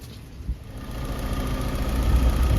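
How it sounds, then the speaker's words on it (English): A Sunbeam Alpine engine runs cold on choke, a low, lumpy idle with a rhythmic mechanical knock and vibration, gradually growing a little louder and heard up close with no voices. "The engine's running here, it's cold, it's on choke."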